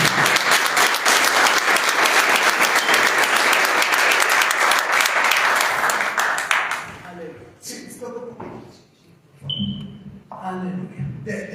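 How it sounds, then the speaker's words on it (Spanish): Loud, sustained applause from a large church congregation for several seconds after a sermon, then fading into scattered claps and murmuring voices. "Démosle un fuerte aplauso al Señor."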